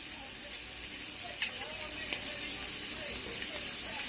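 Old Bay–seasoned shrimp fry on an uneven-heating home stove, giving a steady broadband sizzle with faint watery crackle throughout.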